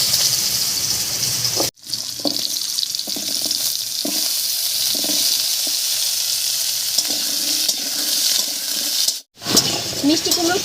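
Cut pumpkin pieces frying in hot oil, a loud steady sizzle with stirring clatters, briefly cut to silence twice, no talk heard.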